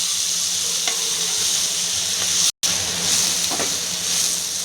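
Chopped broad beans (chikkudukaya), coated in turmeric and salt, sizzle and fry steadily in a pan. A bright continuous hiss carries through, with occasional faint stirring scrapes and one brief dropout.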